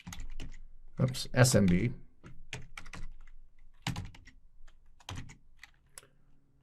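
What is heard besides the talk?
typing commands on a computer keyboard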